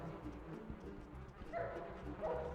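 Dogs bark and yip faintly in the Ratatouille video game, a few short barks rising over a low background rumble of game ambience.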